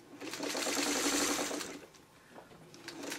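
A sewing machine stitches seams joining traditional quilt blocks, running in a steady rapid hum for about a second and a half before easing off into quieter handling sounds.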